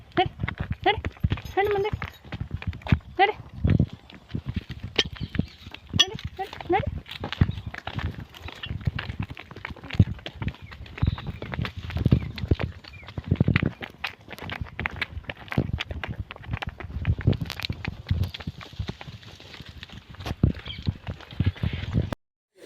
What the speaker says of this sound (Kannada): ಇವಾಗ ನಾವು ವಾಕ್ ಮಾಡ್ಕೊತ ದನಗಳನ್ನ ಇಟ್ಕೊಂಡು ಮನೆ ಕಡೆ ಹೊರಟಿದ್ದೀವಿ